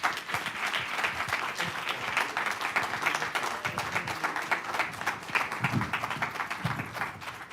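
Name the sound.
audience applause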